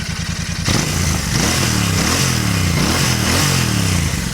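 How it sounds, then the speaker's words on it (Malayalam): A Royal Enfield Bear 650 twin with a 270-degree firing order idles briefly, then its rough, throaty exhaust swells into loud, close revving that rises and falls in several repeated blips. "ആ 270 ഫയറിംഗ് ഓർഡറാണ് കേട്ടോ"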